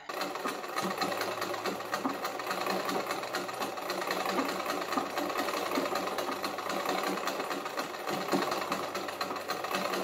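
A century-old sewing machine stitches fabric in a steady, busy mechanical whir with rapid needle clatter that runs continuously and close up throughout.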